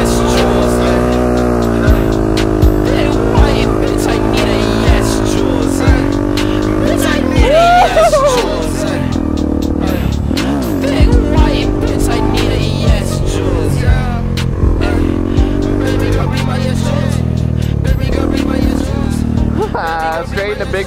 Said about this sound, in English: Straight into Big Mac Moto doing a burnout